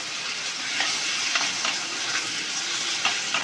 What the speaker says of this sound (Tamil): இதுலேயே கொஞ்ச நேரம் நல்லா அந்த தக்காளி சுண்டி வர வரைக்கும் நம்ம நல்லா வதக்கி விட்டு வேக வைக்கலாம்.